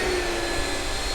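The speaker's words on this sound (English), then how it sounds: "You can't run a vacuum cleaner on 12 amps, John." A household vacuum cleaner runs with a steady, loud broadband whine and hum, held constant for about a second with no voices.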